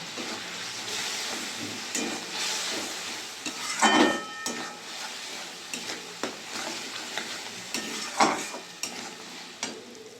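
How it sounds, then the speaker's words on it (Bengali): Spice paste with sugar and garam masala sautéed in a pan for a Bengali fish kalia: a steady, close sizzle with repeated spatula scrapes and stirring clatter. "ভালো করে মশলাটা কষিয়ে নিয়েছি"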